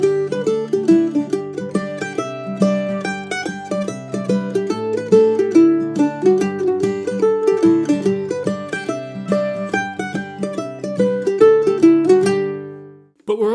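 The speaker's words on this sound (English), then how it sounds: "how to play the Irish hornpipe Off to California" A mandolin plays the Irish hornpipe Off to California alone, with crisp plucked notes in a lilting, swung rhythm, clear and close, pausing briefly just before the end.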